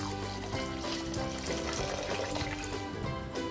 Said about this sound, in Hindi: अब हम एक कप दाल में एक कप पानी डाल देंगे